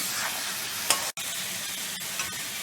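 Mutton slow-frying for kosha in a pan produces a steady close sizzle, with a short clatter and a brief dip in the sound partway through before the frying noise resumes.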